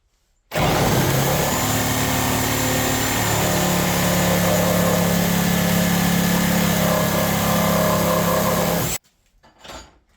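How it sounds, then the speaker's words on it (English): A Milwaukee carbide demolition blade in a reciprocating saw cuts through plain wood, a loud, continuous buzzing whine that runs for about eight seconds and then stops abruptly, followed by a brief faint rattle. "Now we have the Milwaukee carbide blade versus the plain wood."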